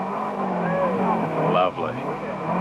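Datsun rally car in the 1984 NSW Rally Championship passing on a stage, engine note sweeping past with tire noise under continuous commentary.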